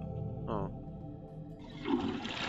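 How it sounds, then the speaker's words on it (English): Toilet flushing in the I Live Under Your House video game: a short pause, then a loud gushing rush of water that swells and continues to the end, following a brief clunk and tonal squeak. "You didn't hear the toilet flush, right?"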